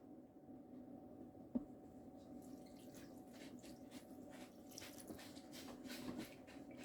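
Brine poured over habanero peppers for a fermented hot sauce makes a faint, soft trickle and splash of liquid against a low steady room hum, with a small knock early on.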